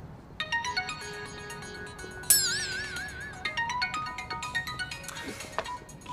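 A phone plays a melodic electronic ringtone for an incoming video call, a loud run of bright chiming notes with a warbling sweep partway through, heard alone with no talk.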